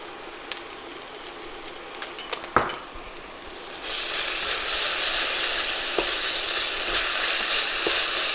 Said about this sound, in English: I'm gonna put the garlic and ginger in now